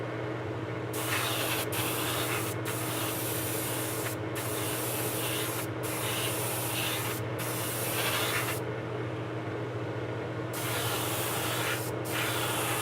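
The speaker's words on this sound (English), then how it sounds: "Always spray at the filters. You want to spray, let your filters do the work." A paint spray gun fitted with a number 3 nozzle hisses steadily and close up in a spray booth with filters, cutting off briefly several times between passes.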